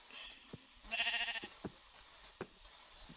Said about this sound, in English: A hungry sheepy.